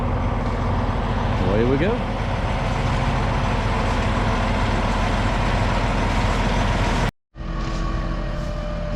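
A lowboy truck hauling an excavator away, its heavy diesel engine rumbling steadily and loud throughout, with a voice speaking briefly over it and a short break near the end.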